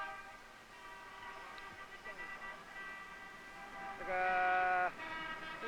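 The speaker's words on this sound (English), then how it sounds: "The street noise was deafening." Shanghai street traffic gives a steady background roar with a sustained car horn blaring loudly near the end and fainter honks earlier. A voice speaks over it.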